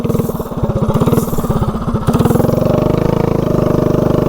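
A small propane-fuelled mini bike engine runs with a loud, close, rapid single-cylinder putter that steadies into an even chugging rhythm partway through.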